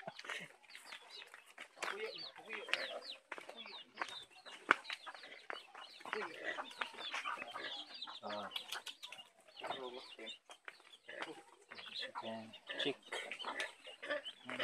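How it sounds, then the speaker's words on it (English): Chickens cluck and call around a farmyard with livestock, the bird sounds scattered and busy throughout, sometimes close and sharp, mixed with people talking nearby. "Chicken."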